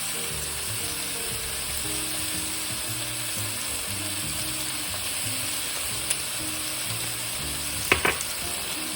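Steaks seasoned with salt sizzle steadily in a frying pan, a soft continuous hiss with a couple of brief clatters near the end.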